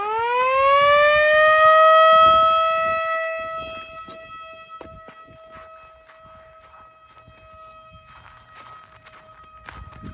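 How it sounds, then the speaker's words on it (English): A loud homemade siren driven by a DC electric motor winds up to a steady wail, then falters and dies away, leaving scattered clicks and faint rustling. "I have my homemade siren that I made"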